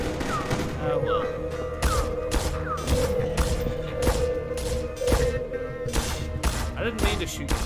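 Rapid gunfire in a video game during a livestream, with bursts of shots popping steadily over a busy mix of game sounds and music throughout.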